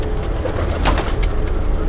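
Caged show pigeons of Faqeer Gul, Golden and Teddi Sialkoti types coo softly and continuously, close by and fairly loud, with a low background hum.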